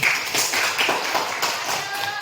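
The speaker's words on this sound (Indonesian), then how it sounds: "berikan tepuk tangan dulu Putri" Classmates in a school lesson clap for a student, a short burst of quick, close hand claps with a voice speaking over them.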